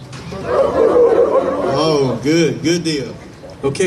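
An audience joins in imitating dogs barking, a loud chorus of voices going "roof" in repeated bursts that are mixed and overlapping. Someone speaks briefly at the end.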